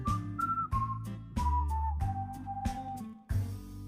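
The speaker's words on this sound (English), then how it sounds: "I am blowing a whistle." A whistle sounds in a string of short, steady tones that step gradually lower in pitch, each blast separated by brief gaps, heard up close and alone with no talking.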